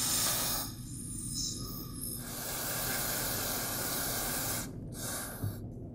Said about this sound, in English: I want to spray the carb cleaner through all the internal passages on the carburetor.